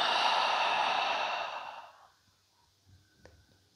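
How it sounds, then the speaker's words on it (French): A long, relaxed exhale through the mouth during a guided breathing exercise, a loud breathy whoosh lasting about two seconds that fades to near silence, followed by faint soft noises. "Expire par la bouche, relâche complètement."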